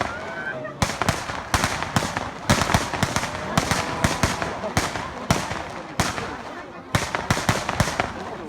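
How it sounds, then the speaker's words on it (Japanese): Nanyodai fireworks display in 2017, a rapid series of sharp loud bursts and crackles at irregular intervals, continuing throughout with a crowd murmuring underneath. "これで今年の南陽台花火は終了します。"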